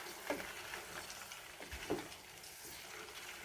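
A spoon stirs tuyo sauce in a pan, giving soft scraping strokes over a steady low sizzle, fairly close and moderately quiet throughout.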